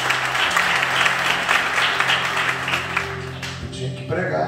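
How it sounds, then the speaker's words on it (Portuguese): A church congregation breaks into sustained applause at a healing service, steady clapping filling the room while voices and a low hum continue underneath, thinning out near the end. "Aplaude o Senhor Jesus."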